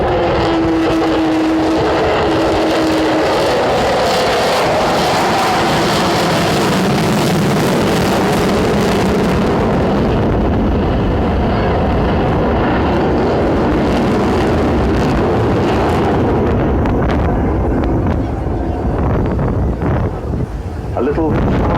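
An Avro Vulcan bomber, flown by a Rolls-Royce chief test pilot, passes at an air display with a loud, sustained broadband jet roar that swells and fades, buffeted by wind noise, with people talking.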